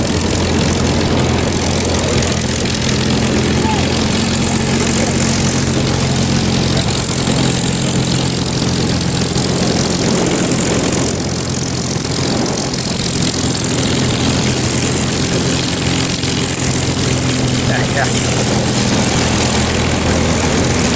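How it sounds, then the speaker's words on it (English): A WW2-era P-51 Mustang propeller fighter taxis in after a flight at an airport, its engine idling with a steady, loud, rough drone and low throb that holds for the whole stretch with no talk. "the P51 Mustang is rolling in after a 30-minute flight"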